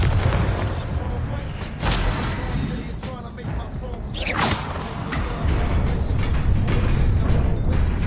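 A Bombarda spell goes off in the Hogwarts Legacy video game: a booming explosion followed by a swooshing blast, standing out over a dense, steady in-game background rumble.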